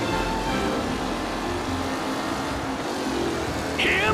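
Race cars in a Mafia Definitive Edition race roar continuously up close, engines revving under a dense wash of noise, with a brief sharp squeal near the end.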